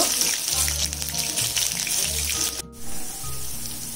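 Chopped green chillies, four or five of them, frying in a few tablespoons of oil in a pan, giving a steady loud sizzle with a low background hum and a brief dip near the end.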